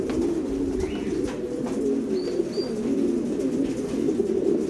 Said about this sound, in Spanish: De todo tipo de palomas tenemos aquí, señores.